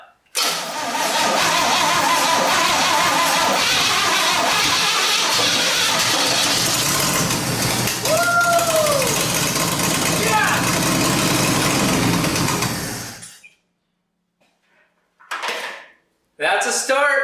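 A swap-meet engine that was once full of water cranks and catches in a 1967 Chevy C10 Stepside, then roars loudly and idles for about twelve seconds before shutting off, followed by brief talk.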